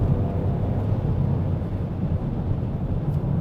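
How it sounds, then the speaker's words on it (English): Toyota GR Corolla hot hatch with a 3-cylinder engine and triple exhaust, heard as a steady, loud low drone from inside the cabin with no breaks. "It's just the actual sound of this engine"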